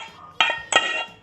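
Teriyaki chicken and sauce being stirred in a pan: a few sharp metallic clinks of utensil against pan over a low background, close and brief.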